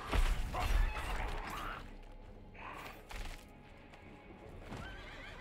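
In Diablo 4, a horse whinnies loudly and close at the start, followed by quieter hoofbeats and scattered game effects, with no speech over it.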